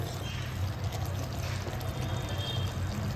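A little water poured into a cooking pot while making majjiga pulusu gives a steady, continuous rushing trickle at moderate loudness, with no speech.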